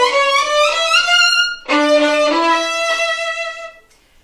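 Violin playing octaves with every note given the same emphasis, sustained bowed double-stopped tones in two long phrases, close and loud, fading out near the end.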